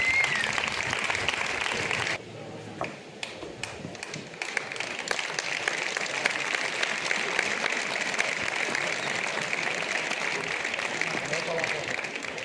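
Applause from the audience at a village festival ceremony in Jaraíz de la Vera, greeting the local cancer association board receiving a medal; sustained clapping fills the hall for the whole stretch, with a brief dip early on.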